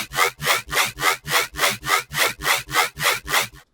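A dubstep riddim phase bass patch built in the Serum synth, a run of about eleven evenly spaced rhythmic wobble pulses with a gritty, sweeping texture, loud and alone.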